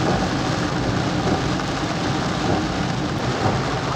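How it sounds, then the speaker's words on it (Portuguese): Heavy, steady rain pours down in Parnaíba, Piauí, a dense broadband wash that holds loud and constant from start to finish with no voices. "Muita chuva mesmo acumulada."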